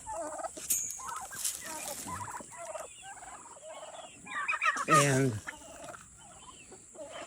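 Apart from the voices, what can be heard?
turkeys gobbling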